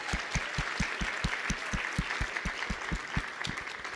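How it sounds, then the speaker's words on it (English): Students and audience clap together in a steady round of applause at an academic awards and hall of achievement ceremony, with dense, even clapping at moderate distance and no voices over it. "Round of applause."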